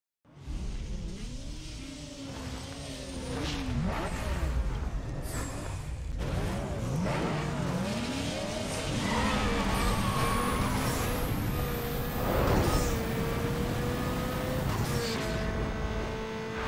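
A Toyota Supra 3.0L I6 with a stage 3 turbo revs and pulls hard through repeated upshifts in a Need For Speed Underground 2 drag race, its engine note climbing and dropping steadily and loud throughout, with tire squeal and other cars mixed in.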